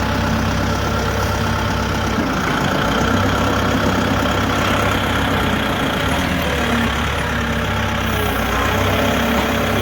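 A Massey Ferguson 2705E tractor engine runs steadily and loud throughout, a continuous low diesel drone with no pauses while the machine works in a rut.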